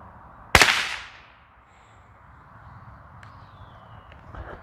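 A Mossberg 802 Plinkster .22 rifle fires one sharp, close shot on an outdoor range, followed by a quick fading echo and then quiet background.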